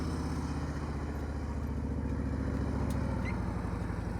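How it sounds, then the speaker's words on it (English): A motorcycle engine runs steadily at low revs during slow-speed riding skills practice, a continuous close rumble with a rhythmic throb and no talk over it. "Listen to his engine, guys."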